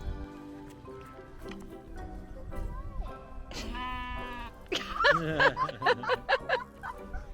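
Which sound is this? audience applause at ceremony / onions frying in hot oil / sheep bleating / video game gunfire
sheep bleating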